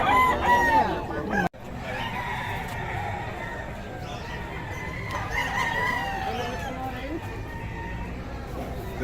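A spangled rooster crowing near a Filipino market stall, loud crows and clucks close by, mixed with people talking throughout.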